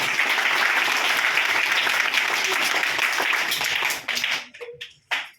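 Audience clapping together at a tree-planting ceremony at a rural zilla parishad school, dense sustained applause that thins out into a few scattered claps near the end, loud and close.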